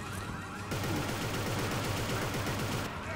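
Rapid bursts of gunfire in the Xbox 360 game Inversion crackle steadily for a few seconds, a dense automatic-sounding rattle with no pauses.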